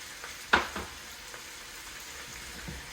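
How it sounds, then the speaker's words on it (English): Shrimp hit a pan of browned garlic with one sharp splash of sizzle, then quieter frying crackle continues. A few soft stirring knocks follow at moderate distance. "Once the garlic has started to brown, you're going to add in the shrimp"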